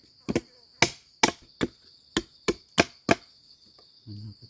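Wood being pierced and struck while building a wild boar trap: about eight sharp, evenly spaced knocks ring out close by, followed by a brief low rumble at the end.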